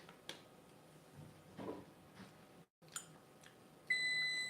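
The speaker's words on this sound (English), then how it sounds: "Okay, timer's done." A kitchen timer beeps steadily near the end, a thin electronic tone over quiet room noise, after scattered light clicks and kitchen handling while wontons are being made.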